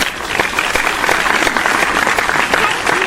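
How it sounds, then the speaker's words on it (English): Audience applause breaks out after a graceful prayer dance by grade 4 and 5 pupils at a school talent show, steady dense clapping filling the hall for about three seconds with no voices on top. "Such graceful dancing deserves a huge round of applause."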